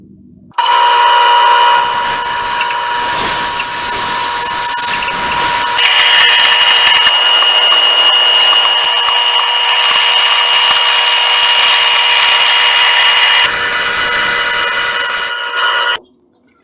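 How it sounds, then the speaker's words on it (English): A bandsaw cuts through wood blocks for a Christmas tree craft, a loud steady whine and rasp running almost without a break, with brief shifts in pitch as the blade feeds through, then stopping near the end. "I love the bandsaw. It's awesome."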